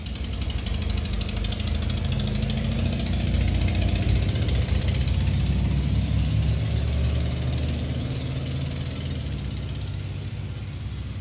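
Engine of a 1985 Volkswagen Vanagon idling after sitting for 20 years, a steady loud rough rumble with a fine ticking clatter, close and continuous throughout.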